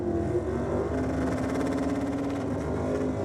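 Two drag racing cars run together at a dragway, a 283 Chevy hot rod and a 1965 Bel Air with a 350 Chev. Their engines hold a loud, steady, close roar with a layered droning tone throughout.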